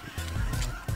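Geese honk in a quick series of loud, close calls, three or four overlapping nasal blasts, during a waterfowl hunt in Saskatchewan.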